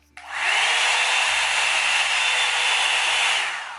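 A Revlon One-Step Volumizer hair dryer switches on at its low setting and blows with a steady whooshing roar, holding constant for a few seconds before winding down.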